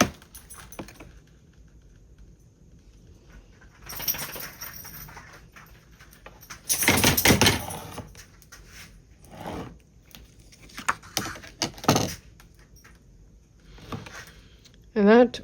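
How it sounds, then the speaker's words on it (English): A big young dog shakes herself beside a desk, and her tail knocks against items on it. A loud rattling flurry comes mid-clip, with scattered nearby thumps and clatters before and after over a low background. "that was my dog shaking herself and her tail banging against stuff on my desk"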